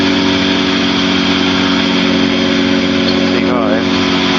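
Training helicopter in flight, its engine and rotor producing a constant loud drone with steady tonal harmonics throughout, close and unbroken, with a brief chirping sound near the end.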